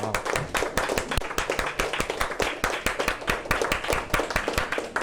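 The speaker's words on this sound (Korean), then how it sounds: "우리 하나님께 영광의 박수 돌려드리고 마치도록 하겠습니다" Rhythmic unison clapping from a church congregation giving praise to God, sharp regular claps in a quick steady beat, fairly close and moderately loud, lasting the whole stretch.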